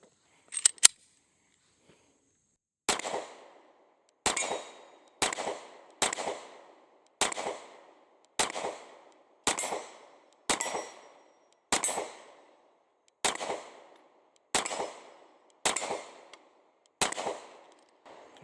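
An S&W Shield X pistol fires about fourteen sharp, loud shots at a steady, unhurried pace from a 13-round magazine, each crack trailing into a short echo at an outdoor range, with no talking.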